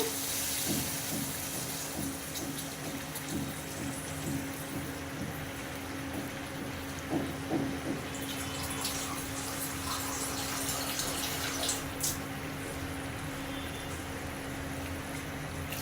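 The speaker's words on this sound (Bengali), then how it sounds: "এবার আমি জল দিয়ে দিচ্ছি গ্রেভির জন্য" Water pours into a pan of cooking minced meat with pointed gourd (kima potol) to make gravy, a continuous rushing hiss and splash lasting about sixteen seconds, with a few faint clinks and bumps of the pan along the way.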